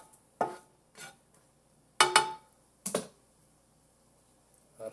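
Spoon stirring a home-cooked dish just sprinkled with cheese: four or five brief clinks and scrapes against the dish, spaced apart with quiet gaps, fairly soft and close, no talk.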